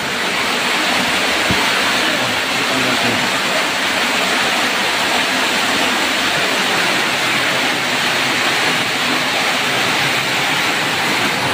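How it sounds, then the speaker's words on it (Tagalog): Heavy rain pours onto a roof in a steady, loud, unbroken roar that carries through the whole clip with no voices. "Grabe, napakalakas ng ulan mga kababayan."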